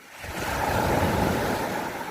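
Waves of the Tyrrhenian Sea on the Italian coast wash in steadily, a close, continuous broadband rush that swells in over the first moment, with some wind buffeting the microphone and no voices.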